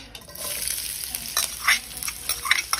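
Onion hits hot oil in a kadai and sizzles loudly up close, with bright crackling bursts and scraping stir strokes recurring every second or so.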